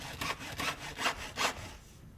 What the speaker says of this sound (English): you've got to see if one end of the hacksaw cut meets the other one